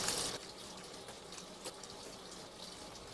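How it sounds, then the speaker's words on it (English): Running water splashes steadily from a tap as fig cuttings are rinsed beneath it, a continuous close hiss and patter with a brief louder gush at the start and no talk. "I'm going to go ahead and just give them a quick rinse and then set them on a tray to dry."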